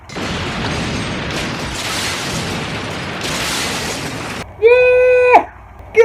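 A long roaring explosion in the film Maniac Cop 2, a loud sustained blast with crackling debris that cuts off abruptly, followed by a brief wavering tonal sound.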